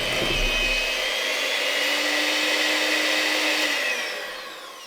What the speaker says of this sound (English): make sure we give it another good whisk